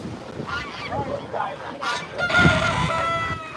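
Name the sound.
guinea fowl calling at an animal sanctuary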